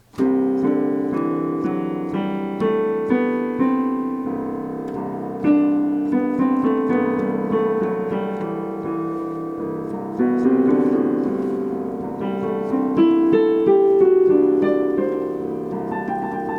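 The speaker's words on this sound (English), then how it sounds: "So this is how Lydian sounds like, a very bright sound, very floaty" A Lydian mode scale in C played on a melodic instrument, bright sustained notes moving step by step in a clear, continuous line, close and fairly loud with no talking.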